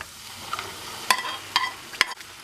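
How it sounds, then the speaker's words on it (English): Onion and pepper frying in a pan, a soft sizzle under several sharp spatula scrapes and knocks against the pan spaced about half a second apart. "Stir them all together"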